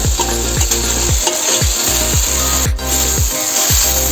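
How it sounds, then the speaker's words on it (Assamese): A curry of chicken and fish is stirred and fried in a pan, with steady loud sizzling and repeated rhythmic scrapes of a utensil against the pan, close and without talking. "এতিয়া ভালকৈ লৰাই লৈছোঁ।"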